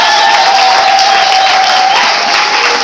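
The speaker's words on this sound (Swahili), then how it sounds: "Pigie Bwana makofi." Church congregation clapping together in a dense, steady wash of applause with some cheering, loud and continuous throughout, voices mixed into the crowd noise.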